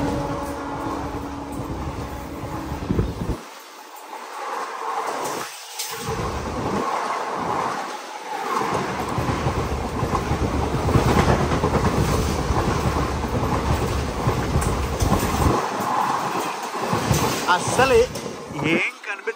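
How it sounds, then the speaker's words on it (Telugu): A fast oncoming train rushes past on a single-line railway track, a loud continuous roar with rattling wagons that lasts nearly the whole stretch, with a voice speaking over it. "అంత ఫాస్ట్గా కొట్టిపడేసింది ట్రైన్."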